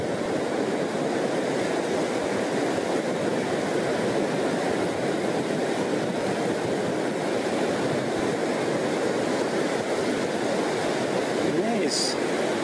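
Steady roar of ocean surf as the tide comes in quickly along a shoreline where someone fishes with a net, loud and continuous with wind buffeting the microphone.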